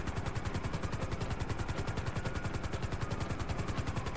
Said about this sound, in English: Trying to shake off this chopper chasing me.